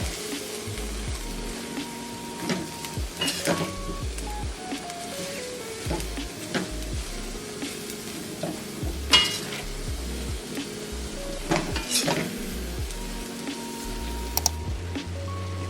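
Cabbage frying in a pan while being stirred, with steady sizzle under intermittent scraping and clinks of a utensil against the pan, close and moderately loud, no talking.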